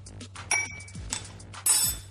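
A spoon clinks against a glass while fiber powder is spooned in, giving three distinct bright chinks spread over about two seconds, close and clear, with a low steady hum underneath.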